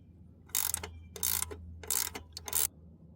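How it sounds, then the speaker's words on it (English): Wrench ratcheting off a 15mm nut on the shift lever of a 1999–2006 Chevy Silverado or GMC Sierra, four close, crisp bursts of rapid clicking separated by short pauses, with no talking. "So now we can remove this 15mm nut holding your shift lever on."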